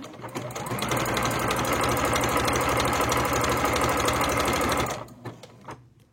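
A sewing machine stitches a hem on a fine fabric scarf, whirring steadily and loudly for several seconds before it stops and leaves a few faint clicks.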